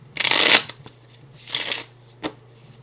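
A deck of Onirim cards riffles in two crisp, close bursts, each followed by a short tap as the cards settle, over a faint steady hum with no talking.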